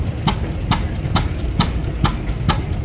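A restored tractor engine idles at a vehicle parade, its low chugging steady and close, broken by sharp regular knocks about every half second.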